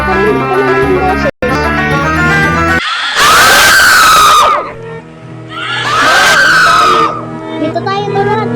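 Loud, shrill screams ring out in a Roblox elevator game, two long piercing bursts rising and falling one after another, with noisy game audio and chatter around them.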